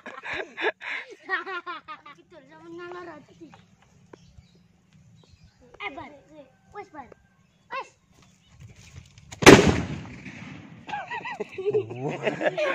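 One sharp bamboo firecracker blast cracks out, loud and sudden, between scattered bleating, chattering animal-like calls.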